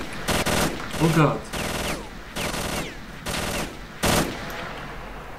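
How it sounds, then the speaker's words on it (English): Long bursts of MG42 machine gun fire in the New Arsenal mod video game, several rapid rattling volleys separated by short gaps, loud and close, with a man briefly exclaiming between them. "The guy with the MG42 just destroyed me."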